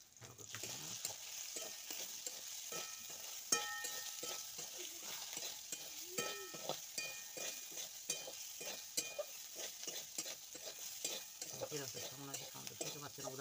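Soybeans fry in a pan under a constant hiss while a utensil stirs and scrapes them in a quick, irregular rhythm of sharp clicks that carries on throughout.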